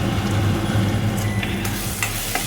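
Potato fry sizzling in a pot, a dense continuous crackle and hiss up close, with a few brief scrapes of stirring and no talking.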